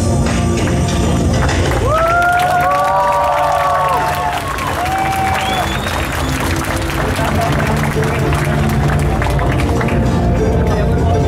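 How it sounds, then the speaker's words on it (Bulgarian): Audience at a cosplay contest at PlayExpo Bulgaria 2013 applauds and cheers in a continuous loud wash of clapping and crowd noise, with brief rising tonal sounds briefly riding over it. "Аплодисменти."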